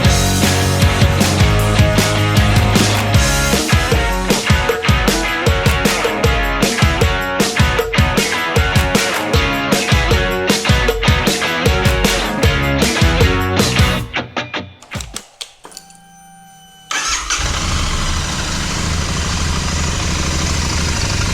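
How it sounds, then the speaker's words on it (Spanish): A motorcycle engine cranks and catches, then idles with a rapid, steady pulsing beat. It cuts out abruptly, leaving a few seconds of near silence, before a loud, steady hum resumes. "vamos a arrancar la moto"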